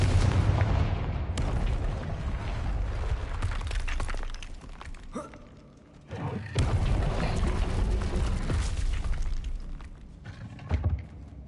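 Confringo explosion spell blasting in the Hogwarts Legacy video game, heavy booming bursts with shattering debris that rumble on, then a brief lull before another loud blast and crashing echoes.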